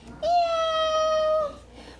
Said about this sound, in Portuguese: Como é que o gato faz?